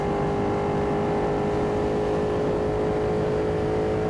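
Ducati Panigale V2 motorcycle engine pulling hard in race mode, a steady, loud, sustained drone with a strong low rumble that holds even throughout, no voices over it.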